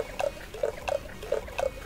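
Liquid pours in short spurts in the video game Cooking Simulator, with about five quick, faint glugging splashes in an uneven rhythm.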